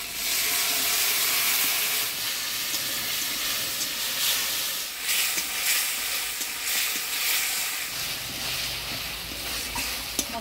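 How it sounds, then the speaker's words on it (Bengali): Potatoes sizzle and fry in a pan with ground spice paste of coriander, cumin, ginger and chilli, plus turmeric, salt and a little water, stirred steadily; a continuous close hiss and sizzle with stirring scrapes, no talk. "মশলা দিয়ে আলুটা ভালোভাবে কষিয়ে নিলাম"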